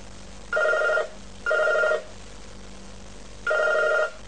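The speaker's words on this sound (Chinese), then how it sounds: "电话响" A telephone bell rings close and clear in three evenly spaced bursts, each about half a second long, with short quiet gaps between them and no voices.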